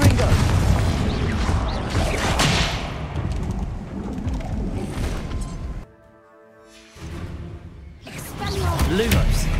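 Confringo fire-blast spells in Hogwarts Legacy erupt as dense, loud, booming explosions that roll on almost without a break, dropping to a brief near-silent gap before another heavy blast.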